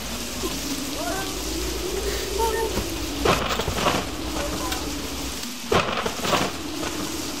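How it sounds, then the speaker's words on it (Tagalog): Steady rain pours throughout while two loud thunderclaps crack nearby, the second one sharper, with low rumbling beneath the downpour. "Umuulan pala. Akala ko may sumabog."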